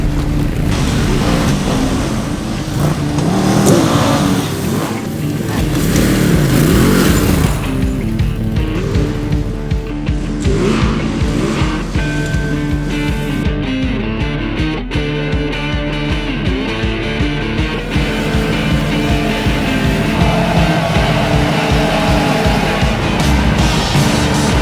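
A 110-horsepower Ducati DesertX motorcycle rides through trees in the Victorian High Country, its engine loud and close throughout, rising and falling as the bike is flicked around, with no talking.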